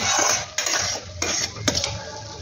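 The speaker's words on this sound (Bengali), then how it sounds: "দেখুন ওই জন্য আমি ভালোভাবে নাড়াচাড়া করে নিচ্ছি" Boiling jaggery syrup stirred in a pot for pitha, a bubbling hiss interrupted by several quick metallic scrapes and knocks of a spoon against the pot, with no voices.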